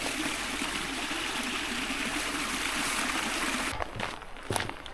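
Water trickles steadily from a mountain spring in the Cézallier as containers are filled outdoors, a close continuous babble that drops away near the end, leaving brief knocks and handling noises.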